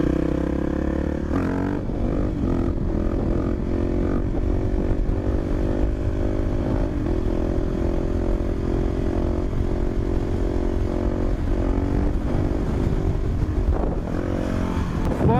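A supermoto motorcycle engine revs hard during a wheelie, a loud steady drone with rising and falling pitch that runs continuously close by, no voices over it.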